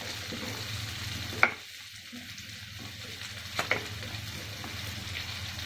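Garlic cloves and green chili fry in a pan with a soft, steady sizzle, broken by a couple of sharp utensil clicks and a brief quiet stir.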